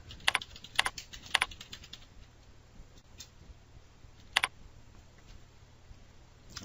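Computer keyboard typing in a quiet room, a few clustered bursts of key clicks early on and a lone keystroke later, close and crisp over faint background hum.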